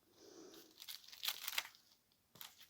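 Scissors snipping small paper tags in a craft setting, a few quick crisp cuts with light paper rustling, close and soft.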